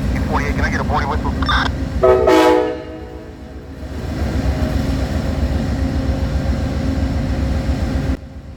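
A Norfolk Southern train sits on a rumbling idling engine, and short horn or whistle toots sound near the start, with one brief louder blast, before the steady low rumble continues.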